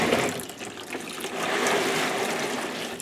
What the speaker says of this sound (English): I have a gallon of water here, but I'm going to pour half of it out into my tub here